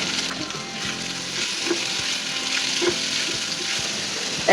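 Boiled chicken frying in a pan with chopped chili, ginger and garlic, a steady loud sizzle with occasional stirring scrapes and clicks throughout.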